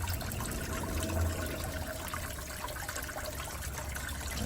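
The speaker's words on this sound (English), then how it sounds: "Draining the cooling system, it's just water and rust." Water and rust drain from the cooling system of a GM PD-4106 bus, a continuous, fairly quiet splashing trickle with a low rumble, steady throughout and no voices.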